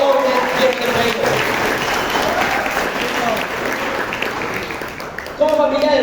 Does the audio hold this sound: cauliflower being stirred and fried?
no